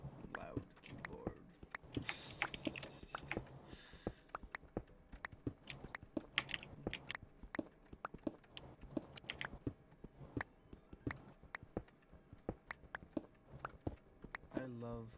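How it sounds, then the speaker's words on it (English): Loud computer keyboard typing runs through as a rapid, uneven stream of crisp key clicks and clacks, close and steady, with bursts of faster keystrokes and a brief flurry at the very end, under quiet talking. "Loud keyboard."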